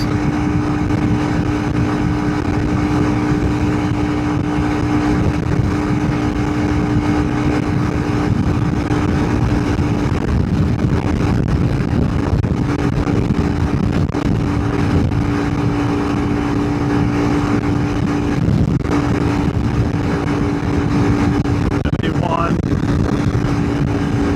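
Honda CRF300L big bore motorcycle at full throttle climbing a hill, a loud steady engine drone with heavy wind rush, constant and close throughout.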